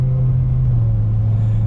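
Heavy BMW M5 sedan driving, its engine giving a deep, steady droning rumble with a strong low hum, loud and close from inside the car, with no voices.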